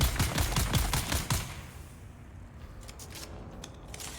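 Rapid semi-automatic gunfire in Dune: Awakening, a quick burst of sharp shots for about a second and a half, then quieter scattered pops and a fading tail.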